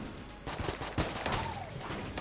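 Video-game gunfire from Enter the Gungeon, a dense, continuous fusillade of rapid shots with a short whistling ricochet-like sweep, loud and close with no talking over it.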